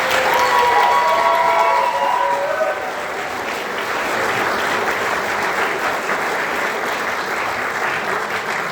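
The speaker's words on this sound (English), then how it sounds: "Another round of applause." A concert audience at an honor band performance applauds, a loud, dense clapping that carries a few cheers early on and then eases slightly while staying sustained throughout.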